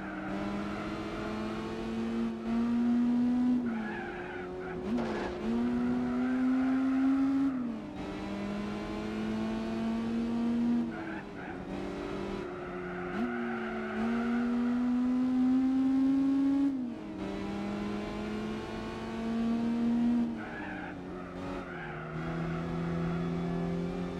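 A racing car engine in Gran Turismo 4 revs and shifts repeatedly over a long stretch, pitch climbing and dropping, with occasional tire skids as the car slides sideways.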